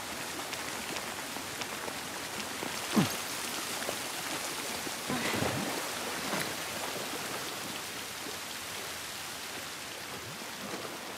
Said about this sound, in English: at least we're out of the rain